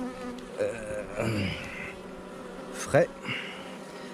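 Honeybees crawling on a brood frame in an open beehive produce a steady, close buzzing hum, with brief handling noises and a spoken word over it.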